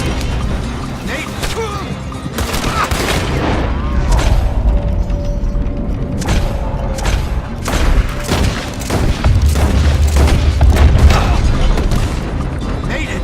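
Gunfire in a Red Dead Redemption 2 shootout: repeated loud cracks and booms burst out at irregular intervals over a dense, rumbling backdrop, with voices shouting in the middle of the fight.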